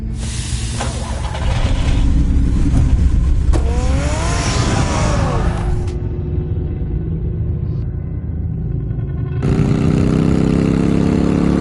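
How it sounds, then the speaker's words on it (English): Car engine in a Batman video game starting up and pulling away, a loud rumbling roar that builds and revs, then drops to a steadier drone before swelling again, with no voices over it. "Get the car ready, Alfred."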